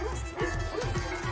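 A shepherd's working dog in the Pyrenees whimpers and yips in short, repeated whines, close and fairly loud, with no talk over it.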